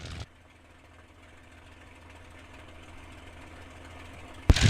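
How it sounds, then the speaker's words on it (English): A TF-51 Mustang aircraft engine running on the ground, a faint, steady, low idling rumble, cut off at the start and end by brief loud bursts. "Even when you're on the ground and you hear them, you can always tell it's a Mustang."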